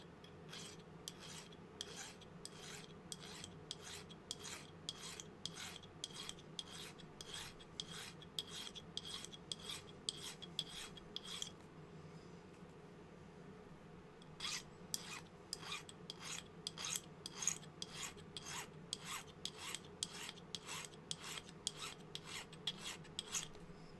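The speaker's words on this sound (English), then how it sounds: "So I use the bastard file, and we're just going to get those ends flat." A bastard file rasps across the ends of a silver band in steady, evenly spaced strokes, close and crisp, with a brief pause midway before the rhythmic filing resumes.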